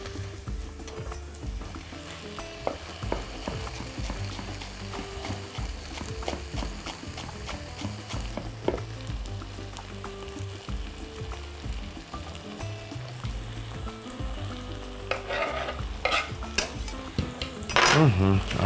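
Chicken and mushroom filling for lavash quesadilla frying in a pan, a steady sizzle under repeated clinks and scrapes of a utensil against the pan, busier and louder toward the end.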